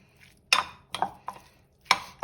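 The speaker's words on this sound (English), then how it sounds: "Give it another quick stir." Tuna salad with fresh lemon juice being stirred in a bowl: four separate scraping clinks of a utensil against the dish, close and fairly crisp, spaced irregularly with quiet gaps between.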